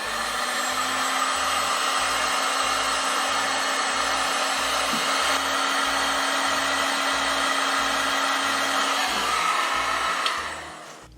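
A heat gun blows steadily on heat shrink tubing over wire, a loud continuous whooshing hum with a faint whine, running alone for about ten seconds before cutting off.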